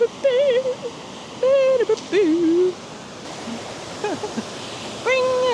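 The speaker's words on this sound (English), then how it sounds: "We're walking on the waterfall." A waterfall walked across along an abandoned Roman highway in Europe gives a steady, close broadband rush of falling water, with a person talking over it at intervals.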